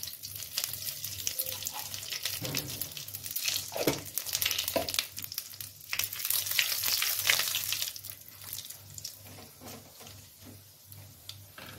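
Tempering of dry red chilli, bay leaf and black cumin sizzles in hot oil while making a vegetarian green papaya dish, a steady broadband crackle with occasional stirring scrapes, close and moderately loud, no voice.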